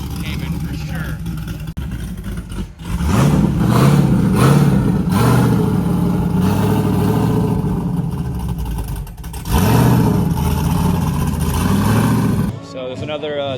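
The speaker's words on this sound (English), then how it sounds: "it's obviously cammed with probably an LS. Got an LS motor Cayman for sure." An LS V8-swapped Porsche Cayman with a cammed engine and loud exhaust at a car meet, revving and rumbling in lumpy surges, with someone talking over the engine noise.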